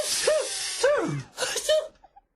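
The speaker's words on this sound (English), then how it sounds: "With all this pepper, everybody is sneezing." A voice acts out a string of exaggerated sneezes, three breathy bursts in a row, loud and close, trailing off into quiet.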